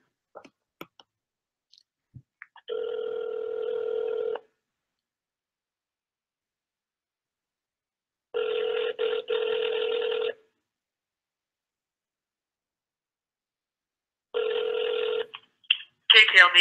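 A telephone call placed to the Jet Propulsion Laboratory, with three long ringback tones separated by silent gaps and a few faint clicks, ending as the line is picked up.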